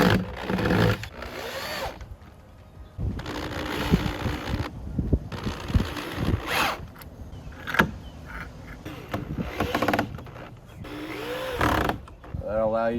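A power drill drives bolts into a wooden double gate in short whirring bursts separated by pauses, with handling clatter in between and someone talking at times.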